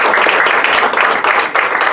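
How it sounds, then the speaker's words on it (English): An audience at a charity magic show applauds loudly and steadily, dense clapping filling the short stretch without pause. "Give yourselves a little round of applause."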